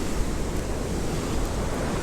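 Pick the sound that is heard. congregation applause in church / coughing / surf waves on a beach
surf waves on a beach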